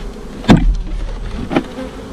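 Two sharp thumps about a second apart as a small hive box is tapped on the ground, with a faint background hum of honeybees around them.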